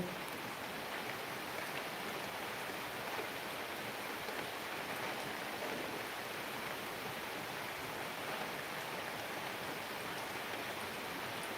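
Heavy monsoon rain in Palakkad, Kerala pours steadily, a dense unbroken hiss of drops with no pauses, close and fairly loud throughout.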